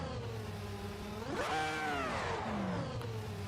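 Toyota MR2 engine revving in a racing game at Suzuka, a steady mid-pitched drone that climbs and sweeps through a rising then falling rev at mid-clip, sustained and fairly loud with no talk.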